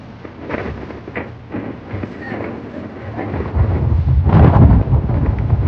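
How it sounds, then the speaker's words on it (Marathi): Strong wind roars and buffets loudly on Sarasgad Fort above a steep valley, rumbling low and swelling stronger toward the end, with no clear talking. "हवा खूप जोरात चालू आहे."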